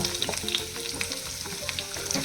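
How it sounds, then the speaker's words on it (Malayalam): Onions sizzle and crackle in hot oil with salt for chana masala, a steady frying hiss with small pops and the occasional scrape of stirring. "ഉള്ളി ഇട്ടൊന്ന് വഴറ്റുക."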